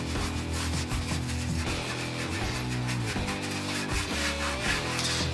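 Gum is rubbed off the drum of a clothes dryer with WD-40, a continuous close rubbing and squeaking scrub in repeated strokes, loud and steady with no talk.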